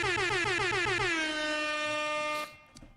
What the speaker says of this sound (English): That air horn is for everybody